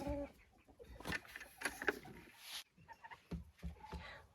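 A Faverolles hen clucks in short, uneven bursts nearby, with scattered clattering and pauses between the calls.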